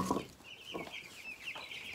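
Chickens on a farmstead cluck softly and at a distance, with a few short clucks and a thin high call heard alone in a quiet yard.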